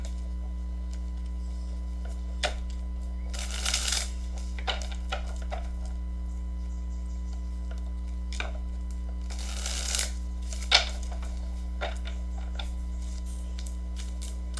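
Tarot cards are shuffled in two short papery bursts, each a second or so long, over a constant low mains hum with occasional light ticks and taps.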